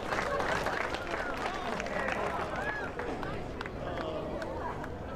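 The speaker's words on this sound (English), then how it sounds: "Give a big round of applause for Ryan Newman." A crowd at a flat track motorcycle race applauds a rider on a 600 Rotax machine, a steady wash of distant clapping and cheering mixed with chatter across the whole stretch.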